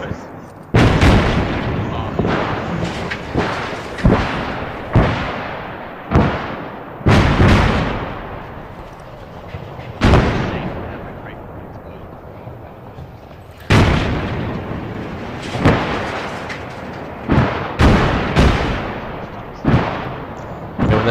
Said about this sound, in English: And when those explosions are finished,